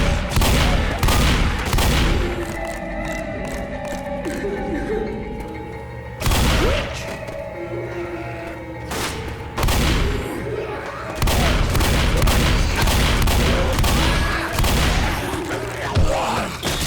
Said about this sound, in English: The shotgun has that punch, the machine guns sound fast, the pistols sound like they are truly your last resort